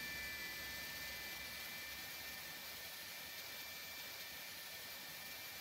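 Airbus Beluga A300-600ST engine 2 spooling up during start in the X-Plane flight simulator, a steady broadband turbine roar with a thin high whine, continuous and even throughout.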